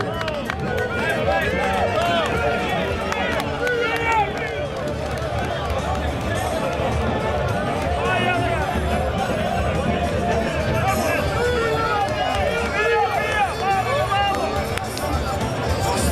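Crowd of fans cheering at a horse pulling contest, a dense continuous roar of shouts and babble with scattered calls, loud throughout.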